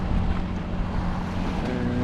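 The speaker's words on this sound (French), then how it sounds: "On a remis un petit peu le moteur." A sailboat's auxiliary motor runs steadily near Fort Boyard, a continuous low engine drone mixed with wind buffeting the microphone and water noise, close and fairly loud throughout.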